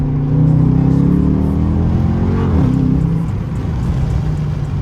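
A Dodge Charger R/T accelerates hard, its engine producing a loud, close, steady roar that rises in pitch, drops briefly at a gear change, then settles into a continued rumble.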